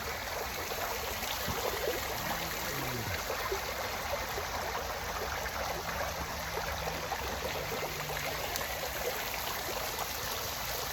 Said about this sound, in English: with the fountain behind me here and the bubbling waters.